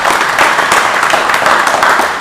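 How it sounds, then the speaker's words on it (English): A live audience gives a round of applause on a slot car livestream show: steady, close, loud clapping that fills the whole moment without any talking. "so big round of applause for you"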